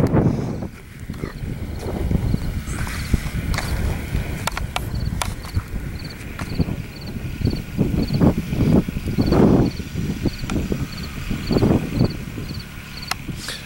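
Strong outdoor wind buffeting the microphone, a constant rough low rumble with gusty swells that never lets up, with faint clicks and a high chirping in the background.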